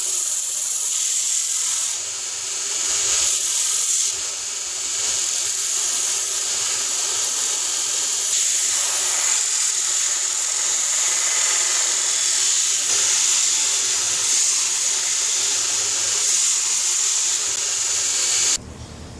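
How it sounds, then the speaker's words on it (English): A belt sander carves down a wooden hammer handle, its steady high-pitched whine and abrasive hiss running loud and unbroken, then cutting off abruptly near the end. "I kind of prefer carving it out on the belt sander"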